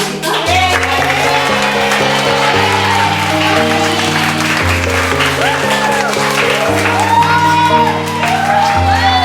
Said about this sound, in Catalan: Un fortíssim aplaudiment per a la senyoreta Cristina, especialista de música.